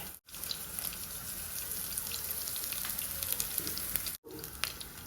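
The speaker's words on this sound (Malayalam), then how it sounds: "ഞാൻ കുറച്ച് കടുക് ഇട്ട് കൊടുക്കുന്നുണ്ട്, ഇച്ചിരി ഉഴുന്ന് പരിപ്പ്, പിന്നെ 2 വറ്റൽമുളക്" Mustard seeds, urad dal and dried red chillies sizzling in hot coconut oil, a steady crackling fry with scattered pops, close and continuous, briefly cut off twice.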